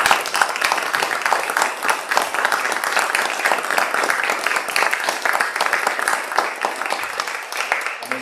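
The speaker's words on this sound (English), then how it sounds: "I think we should have a round of applause for everyone." A crowd applauds steadily inside a church at a regimental memorial ceremony, dense sustained clapping filling the room at an even level from start to finish, with no talk over it.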